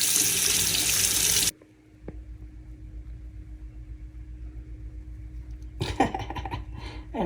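Tap water runs loudly into a sink during face washing, a steady broadband rush for the first second and a half, then only a faint room hum before brief splashy handling sounds near the end.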